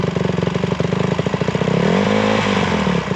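A dirt bike engine puttering steadily close by, then swelling into a rising rev as more throttle is given, loud and continuous.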